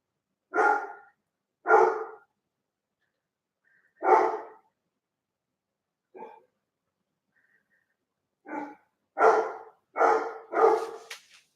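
A dog barks in separate loud bursts, about nine or ten barks with pauses between them, the last few coming quickly together, close by in an otherwise quiet room.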